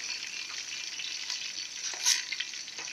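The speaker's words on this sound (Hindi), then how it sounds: "अब मैंने जो है देगची में तेल गरम किया है और मैं तेल में प्याज को गोल्डन करूँगी" Onions frying in hot oil in a deep cooking pot, for a potato and pea tehri: a steady, close crackling sizzle that holds evenly throughout, with a few brighter pops near the end.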